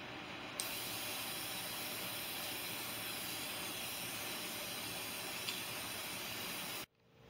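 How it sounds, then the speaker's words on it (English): Steady hiss of lacquer sprayed onto raw aluminum name plates, a continuous close spray lasting several seconds with brief pauses and clicks at the start and end, then a sudden stop into silence. "the last thing I'm doing on these name plaques is spraying them with a lacquer"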